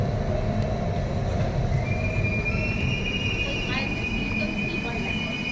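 A Kolkata metro train moves through a station with a steady low rumble. Thin wheel squeals rise partway through, under a busy crowd murmur.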